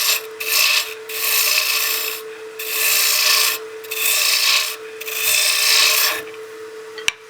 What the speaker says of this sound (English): Now we can come in here with our spindle roughing gouge